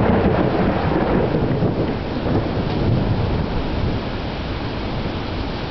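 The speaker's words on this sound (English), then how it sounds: "This is what some of our tropical storms are like, if you can enjoy that." Heavy, unbroken downpour from an unnamed low-pressure tropical storm roars loud and close, with deep thunder rumbling beneath the rain the whole time and no voices.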